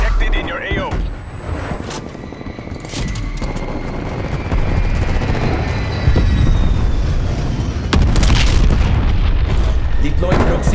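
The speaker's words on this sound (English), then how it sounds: "enemy attack helicopter above" An enemy attack helicopter in Call of Duty Black Ops Cold War gives a heavy, continuous low rumble overhead, broken by booming impacts and explosions, while voices speak over the battle.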